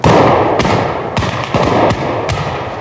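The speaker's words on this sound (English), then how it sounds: "nervous pickets of the 18th North Carolina, thinking they were Yankee cavalry, fired into the darkness" Muskets fired at a 1988 Civil War re-enactment of the Battle of Chancellorsville, about half a dozen sharp, loud reports cracking out at uneven intervals over a noisy outdoor background.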